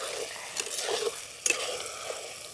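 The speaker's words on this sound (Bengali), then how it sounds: "মাঝে মাঝে চাপাটা খুলে নেড়ে দিতে হবে, নাহলে তলায় যে মশলাটা আছে ওই মশলাটা লেগে যেতে পারে" Mutton curry masala being stirred in a pot, with faint scraping strokes, a soft sizzle and one sharper clink of the utensil against the pot, quiet and without talk.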